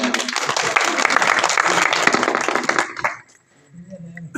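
Audience at a poetry gathering breaks into loud, dense applause for about three seconds, then it cuts off abruptly, leaving a brief quiet before a voice resumes.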